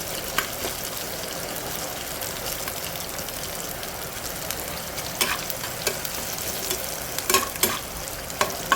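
Ginger, garlic and green chillies fry in oil in a pan with a steady, fairly quiet crackling sizzle and occasional clicks and scrapes of stirring, heard close up.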